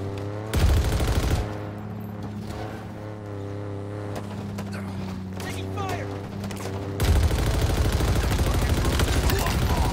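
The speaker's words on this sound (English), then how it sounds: "Taking fire." Gunfire in Halo Infinite Big Team Battle on Xbox: bursts of rapid automatic fire at the start and again near the end, loud and close, with quieter battle noise and a low hum between.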